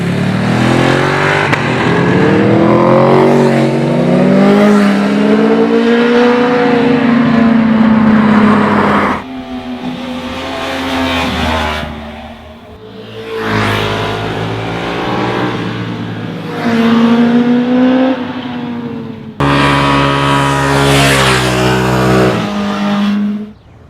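Superbikes, including a Ducati 1299 Panigale, Kawasaki ZX-10R, Aprilia RSV-4RF, BMW S1000RR and Yamaha R1 on Pirelli Diablo Supercorsa SC1 racing tyres, scream around a race track, engines loudly revving and shifting through gears in continuous high-pitched sweeps.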